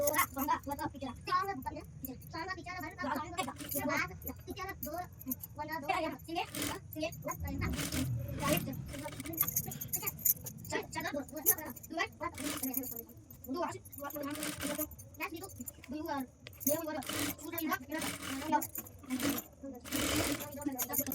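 A sewing machine stitches a young girl's palazzo top in bursts of rapid mechanical whirring and clatter, with fabric handling and scraping between runs while someone talks over much of it.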